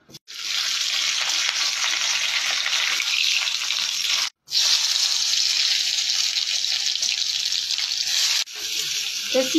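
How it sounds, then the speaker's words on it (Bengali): Potatoes for muri ghonto fry in hot oil with a loud, dense, steady sizzle, broken by two brief pauses as the pan is stirred, close up with no talking. "ভেজে রাখা আলুটা দিয়ে দিলাম"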